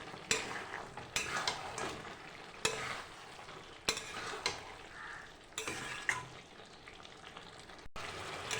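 Chicken with tomato sauce fries in a pan under repeated stirring, soft sizzling punctuated by a series of distinct scraping strokes every second or so, fairly quiet and close.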